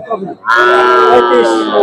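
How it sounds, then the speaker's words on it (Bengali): A single loud, drawn-out moo from a young Deshal-breed bull begins after a brief quiet murmur and holds steady to the end, close and strong, at a cattle market in Jamalpur, Bangladesh. "দর্শক বন্ধুরা, দেশাল জাতের একটি ষাঁড় গরু,"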